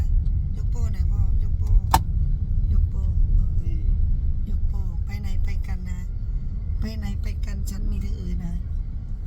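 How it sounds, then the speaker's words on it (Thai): A car drives a long road trip before dawn to Nong Bua Lamphu province, a steady low engine and road rumble throughout, with people talking over it inside the cabin. "คุณพ่อขับรถนะคะ"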